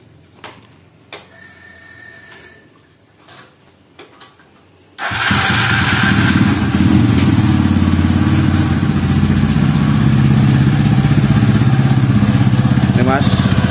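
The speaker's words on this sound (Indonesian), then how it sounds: "ini sudah terpasang, lalu kita coba mas nyalanya gimana," Honda CB motorcycle with a newly fitted camshaft. Some quiet clicks and knocks come first, then the engine starts and settles into a loud, steady idle that runs to the end.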